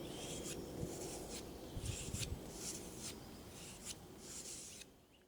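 A bushcraft knife drawn across a sharpening stone in gentle, repeated strokes, a soft rhythmic scraping that recurs about every second, faint and close, with no one talking.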